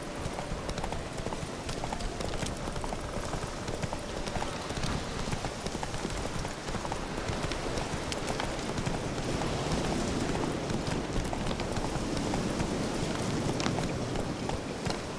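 Hoofbeats from the horse Roach in The Witcher 3 clatter in a fast, continuous galloping rhythm, loud and close throughout over a faint rush of wind.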